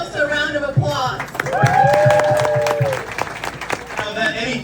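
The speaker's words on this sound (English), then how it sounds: "give yourselves a round of applause" A crowd applauds and claps at a campaign event for governor with a senator, with steady clapping running under a loud voice speaking over a microphone.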